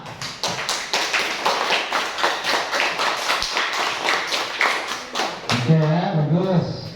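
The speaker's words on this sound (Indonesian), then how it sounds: "dari tepuk tangan untuk kelompok 2" A small group claps in a steady, rhythmic pattern for several seconds, then a voice speaks as the clapping ends.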